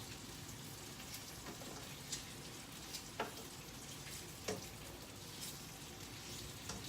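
Bacon frying in a pan, a soft steady sizzle like light rain with a few faint pops and crackles, quiet and continuous with no talking.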